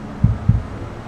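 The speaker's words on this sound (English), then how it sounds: "You hear that? Little heartbeat." Two low, soft heartbeat thuds, evenly spaced, played through the cabin audio of a Mercedes AVTR concept car over a steady low hum, with no talking.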